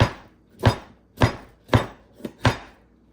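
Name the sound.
knife chopping grilled sazón chicken on a board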